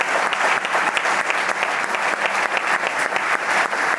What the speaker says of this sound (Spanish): Un aplauso para Gerardo, para Pepe.